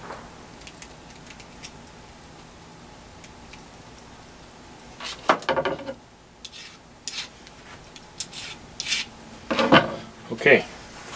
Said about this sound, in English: deburr the inside edge that I just cut